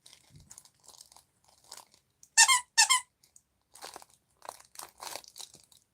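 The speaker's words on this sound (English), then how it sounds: "it's also got a squeaker in its brain" Squeaker inside a plush coyote toy, squeezed in a couple of sharp, loud squeaks, followed by softer crinkling and rustling handling noises in a quiet room.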